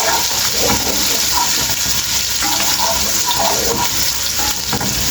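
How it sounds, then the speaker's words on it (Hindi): Garlic frying in a pan as khichdi is cooked, a loud, steady sizzle that continues unbroken with no one talking. "लहसुन को हम थोड़ी देर भूनेंगे।"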